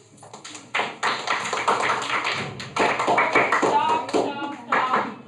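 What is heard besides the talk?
class clapping for a group of students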